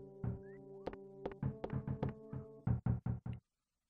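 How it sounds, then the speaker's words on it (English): A series of knocks on a door in the video game EarthBound, about a dozen hollow raps in irregular clusters over a steady low game tone, ending abruptly in silence. "What an annoying knock."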